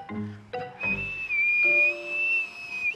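A person whistles one long, steady high note that wavers slightly and holds for about two seconds. It follows a few brief voiced sounds and is heard close up against a quiet indoor background.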